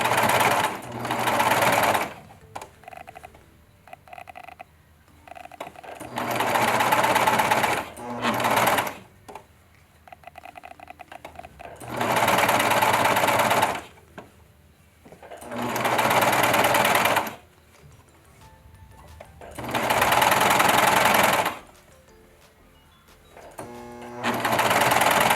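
A sewing machine stitches a Little Lizard King pattern in loud, close bursts of rapid whirring, several runs of a few seconds each separated by pauses with soft handling noise and brief talk.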